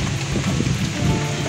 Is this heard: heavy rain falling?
yes